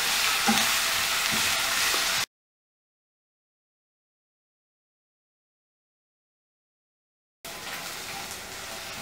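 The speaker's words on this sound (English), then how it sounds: "roast the ginger garlic paste till this oil all the spices should be roasted nicely" Ginger garlic paste and spices roasting in hot oil for misal, a steady close sizzle with faint stirring scrapes for about two seconds, then a long silent gap before the frying hiss returns.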